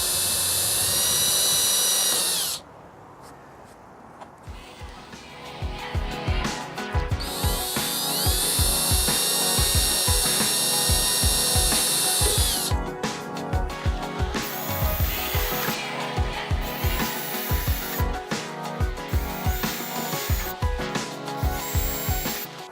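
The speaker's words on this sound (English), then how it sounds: "now that all the holes are drilled" A power drill bores holes in wood while a wickerbill is installed, long whining runs with bursts of high-pitched drilling, a short pause, then repeated rhythmic pulsing as the bit cuts, loud and close.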